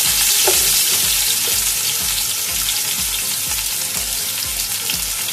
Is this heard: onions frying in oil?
yes